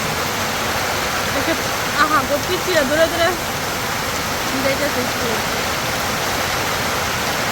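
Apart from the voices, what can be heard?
heavy rain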